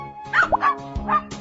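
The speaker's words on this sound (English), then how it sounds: "Dog." A cartoon-style dog barks in a short series of bright, yippy woofs, close and clear, with no talk over it.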